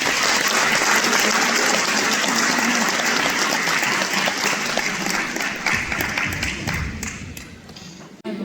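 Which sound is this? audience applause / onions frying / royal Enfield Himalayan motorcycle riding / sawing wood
audience applause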